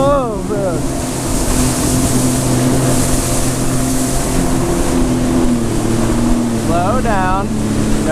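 Sea-Doo Fish Pro Trophy personal watercraft cruising at quarter to half throttle, its engine droning loud and steady with water rushing and wind around it, while brief voices come through near the start and end.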